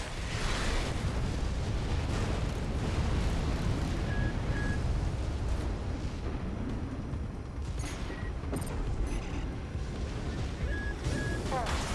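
Explosions and heavy cannon fire from mech combat in the video game Armored Core VI: Fires of Rubicon, a dense, continuous booming barrage with rumbling blasts layered over one another throughout.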